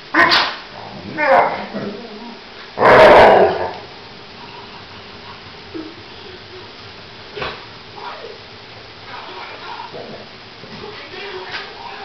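A St Bernard in Thailand gives a few short barks and whimpering yips in bursts, the loudest around the third second, followed by quieter scattered vocal sounds against faint background noise.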